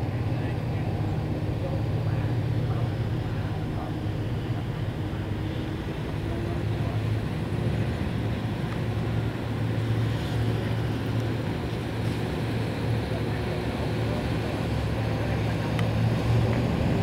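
Twin engines of a small high-speed boat setting off on the sea, a steady loud drone and churning water throughout, with people talking over it.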